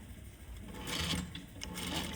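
A sewing machine back-stitches a princess seam, a quiet, close mechanical whir with a brief rapid stitching burst and nothing else around it.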